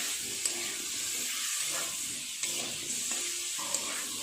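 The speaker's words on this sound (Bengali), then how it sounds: "মশলার সাথে আলু আর কোয়াশগুলো খুব ভালো করে নেড়ে চেড়ে আরেকটু কষিয়ে নেব" Potatoes and squash frying in spice paste, a constant close sizzle and hiss broken by a few light knocks of a spoon or spatula as the pan is stirred.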